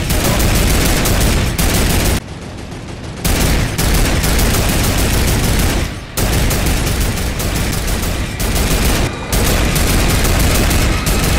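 A mounted turret in the Fortnite video game fires long, loud, rapid bursts of gunfire, broken by a few short pauses, close and continuous.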